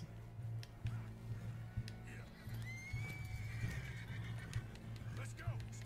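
In Red Dead Redemption 2, a horse gives a drawn-out neigh near the middle, amid scattered hoofbeats and a low droning hum, fairly faint and set back.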